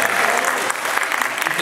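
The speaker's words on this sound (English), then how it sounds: "Hey, you can clap for that, by the way, that's just fine." Audience applause at a political forum on solar energy and energy efficiency held in a theater, a continuous crackle of many hands clapping at moderate volume with a voice faintly underneath.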